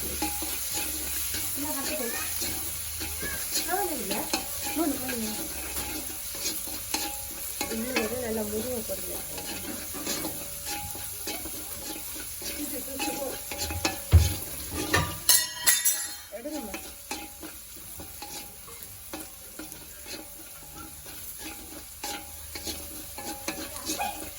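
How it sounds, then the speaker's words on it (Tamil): Onion, garlic and ginger sauté in a pan with a steady sizzle and repeated stirring strokes; a metal utensil clinks loudly about midway, and a faint voice surfaces now and then. "இப்போ பார்த்தீங்கன்னா எங்களோட வெங்காயம் உள்ளி இஞ்சி எல்லாம் வதங்கிட்டு"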